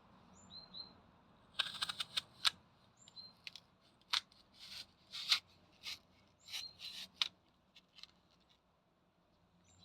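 A knife slices through a whole apple, producing a series of crisp, crunchy cuts in irregular bursts with short pauses between them. The cuts are close and fairly sharp against a quiet room, with no talking.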